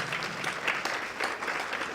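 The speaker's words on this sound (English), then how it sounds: "Give him a round of applause." Audience applause for a guest speaker at a presentation event, a brief, steady burst of many hands clapping at moderate level with no talk over it.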